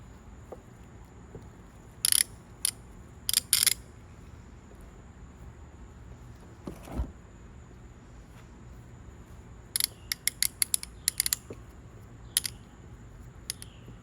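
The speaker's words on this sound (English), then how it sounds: "And now we'll put just one little clamp on it." A small clamp is tightened onto a wood split glued with TotalBoat THIXO Flex epoxy, giving short bursts of sharp ratcheting clicks scattered across the clip over a quiet background, with no talking.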